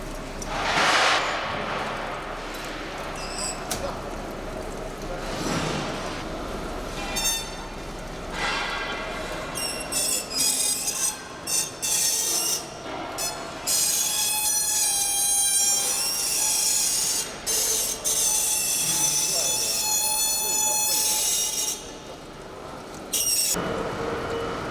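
Screw-making machine with its main motor and oil pump running, a continuous loud mechanical drone with squealing, ringing metallic tones and intermittent clanks and scrapes, close by and with no voices.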